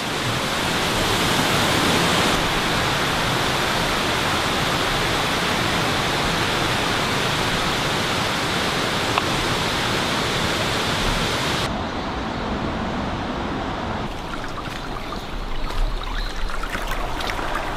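A waterfall in the Japanese countryside gives off a steady, loud, broadband roar of rushing water. It continues unbroken for the whole stretch, with no voices.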